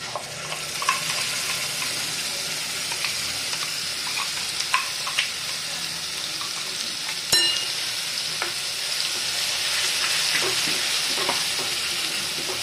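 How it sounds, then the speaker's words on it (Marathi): Ground masala with turmeric and coriander-cumin powder fries in oil in a pan, a steady sizzle running throughout with scattered stirring scrapes and one sharp clink partway through. "हा मसाला छान परतून घ्यायचा, तेल सुटेपर्यंत परतायचा मसाला।"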